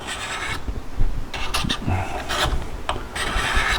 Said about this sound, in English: sitting there with the dang sanding stick, because I'm moving the resin, flattening it out